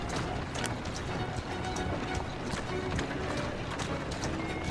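Horse hooves clip-clopping in the video game Assassin's Creed Syndicate, a continuous brisk run of hoofbeats over a busy street-like background, moderately loud and steady, with no one speaking.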